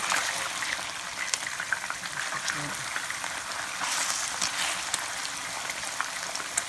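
Garlic sizzling in a pan with pre-boiled, vinegar-simmered meat for sautéed shrimp paste, a steady crackling hiss that continues evenly throughout at moderate loudness.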